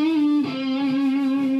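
A heavily distorted electric guitar note rings out through a high-gain distortion pedal, one sustained buzzy tone with a brief pick attack partway through, close and alone.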